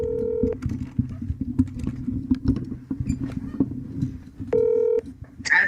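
A phone call is dialed, with steady stacked tones at the start and again near the end, separated by a busy stretch of low, shuffling background noise and clicks.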